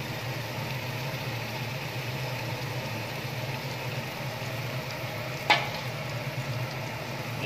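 Tomatoes fry in a wok with onion, garlic and ginger paste, a soft, steady sizzle with one sharp utensil click partway through and no talking.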